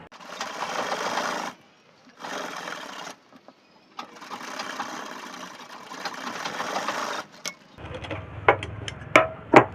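Sewing machine stitching the neck band of a churidar top, running in several fast whirring bursts separated by short pauses, followed by clicks and small handling sounds near the end.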